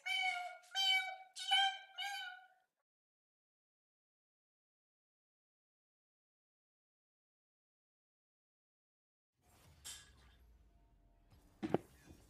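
A cat meows three times in quick succession, loud and clear, followed by a long silence and then faint rustling and a short sharp noise near the end.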